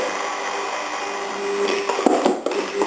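Immersion blender whirring through aioli as oil is added little by little: a steady, fairly loud motor drone with a few brief rougher surges near the end as the sauce thickens.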